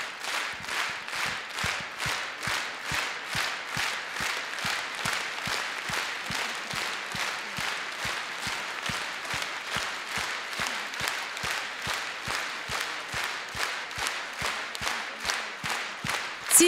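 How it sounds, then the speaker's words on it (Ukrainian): A concert audience at a singer's show claps steadily in unison, a long run of evenly spaced rhythmic claps about two per second, with no break. "Ці аплодисменти йдуть кожному нашому воїні на війні, на передовій."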